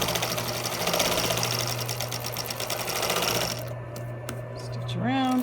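A sewing machine stitches around a cloth medical mask cover with a steady, close mechanical whir. It stops near the end, and a short rising squeak-like tone follows.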